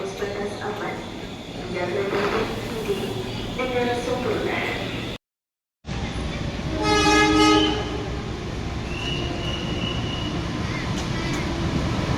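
A passenger train pulls into a station in Indonesia, with a brief horn toot midway, over steady rumbling station noise and people talking nearby.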